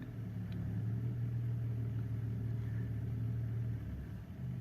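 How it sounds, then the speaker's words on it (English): A BMW E46 325i engine idles steadily at close range, its low drone holding even before the revs dip briefly near the end. "let's just see how it idles."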